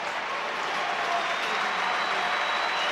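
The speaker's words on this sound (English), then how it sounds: "wonderful KC Stadium applauding the British performance tonight" Large stadium crowd at a 2007 Great Britain versus New Zealand rugby league test at KC Stadium applauding, a dense, sustained wash of clapping at a distance with no pauses.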